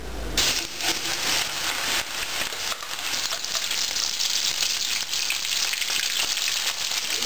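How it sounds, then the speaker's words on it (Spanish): Mixed seafood for Peruvian jalea goes into very hot oil and fries with a loud, dense, steady crackling sizzle that runs from start to finish. "ya tenemos nuestro aceite bien caliente, entonces procedemos a freír."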